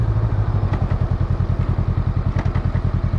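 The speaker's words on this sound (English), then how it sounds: "This thing is fun to drive, which is what a motorcycle should be." A 2022 Honda Rebel 500 motorcycle being ridden, its engine giving a close, steady, rapid low thumping pulse with no talking.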